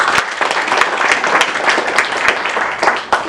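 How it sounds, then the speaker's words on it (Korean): Applause from a forum audience at a Jeju maritime development event, a steady wash of many hands clapping with a few sharper individual claps standing out, filling the room without speech. "박수 부탁드립니다."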